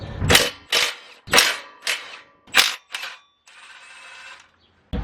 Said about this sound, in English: So we have our impact wrench. We're gonna get to removing them.